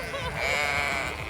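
On Walter Peak farm near Queenstown, New Zealand, a single sheep gives one close, loud, wavering bleat lasting just over a second.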